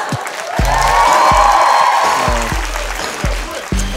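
A studio audience at a lecture show breaks into loud applause and some cheering, over a rhythmic thumping beat that pulses through the whole stretch.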